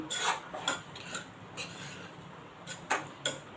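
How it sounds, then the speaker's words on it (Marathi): A lid set on a pan of cooking greens, sounding as a handful of light metallic clinks and taps, spaced out and fairly close, over a faint quiet background with no voices. "आता आपण याच्यावर झाकण ठेवूया त्यावर मी झाकण ठेवत आहे"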